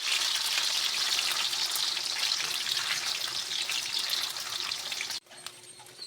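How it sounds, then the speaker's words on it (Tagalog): Longganisa sausage frying in hot oil in a pan, a steady close crackling sizzle that runs continuously before cutting off sharply near the end, leaving only faint low background sound. "Mainit na yung kawali guys. Iluto natin yung langgonisa."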